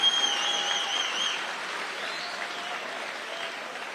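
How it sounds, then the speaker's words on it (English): A large crowd applauding at an Iowa caucus rally, sustained dense clapping from many hands that starts strong and slowly eases, heard from a distance across a big room. "let's give them a round of applause"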